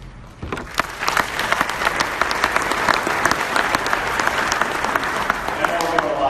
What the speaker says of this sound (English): I know we're doing a lot of clapping tonight